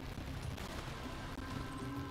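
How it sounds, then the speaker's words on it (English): Dense, rapid video game gunfire from shooting at the ground in Borderlands 2, a continuous low rumbling barrage of booming shots and explosions with no break. "I can just wipe the whole map just by shooting at the ground."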